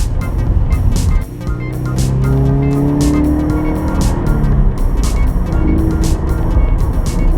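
A 2014 Scion FR-S sports car is driven on the road, its engine rising and falling through gears under steady road and wind noise, close and loud throughout.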